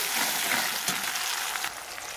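Tomato and onions frying in a home-kitchen pan for a Bengali spiced hilsa-style fish curry, a steady bright sizzle with a small scrape of stirring midway, close and continuous, no voices.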